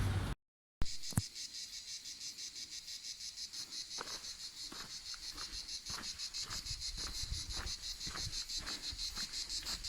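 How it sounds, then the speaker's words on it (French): Cicada sings outdoors in the French Landes countryside, a continuous bright buzzing trill with a steady pulsing rhythm, loud and close, following a brief dropout at the start, with occasional clicks and light wind. "je voulais que vous entendiez la cigale"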